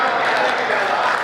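An audience at a Hindi comedy poetry show claps, a short, loud, dense burst of applause filling the whole moment.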